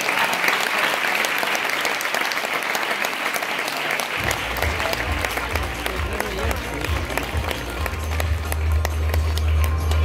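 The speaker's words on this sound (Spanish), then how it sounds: "Un fortísimo aplauso para nuestro rector magnífico" A university festival audience applauds their rector at an evening campus event in Segovia, a loud sustained ovation with music starting up underneath partway through and building toward the end.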